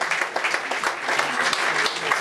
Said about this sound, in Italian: fatevi un applauso da soli perché siete un pubblico stupendo